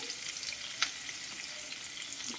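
Spices tempering in hot oil for a coriander and mint chutney, a faint steady fizzing sizzle with an occasional small pop, quiet and close.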